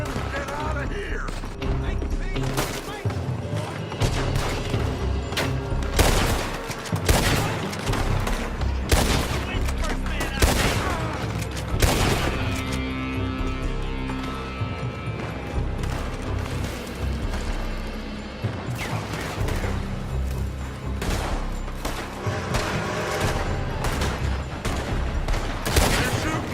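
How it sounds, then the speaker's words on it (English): Rapid bursts of gunfire crack and boom through a Red Dead Redemption shootout, dense and continuous across the whole stretch, with shouted voices mixed into the chaos. "They're shooting from that building!"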